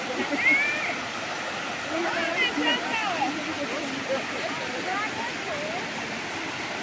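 Waterfall at a tourist spot in Altinho, Pernambuco, Brazil, a steady broadband rush of falling water filling the scene, with people talking and calling faintly over it throughout.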